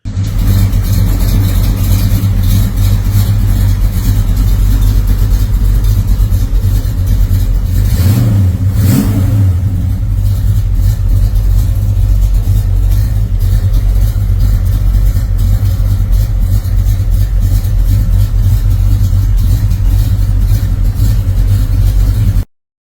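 A blue 1967 Pontiac Le Mans GTO, a second-generation project car, runs loud and close with a deep, steady engine rumble, briefly swelling in a rev partway through before settling back to a constant drone.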